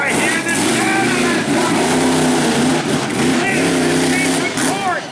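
Truck engine revving hard under power at an outlaw motorsports show, a loud sustained roar with rising and falling pitch sweeps, close and dominant for the whole stretch.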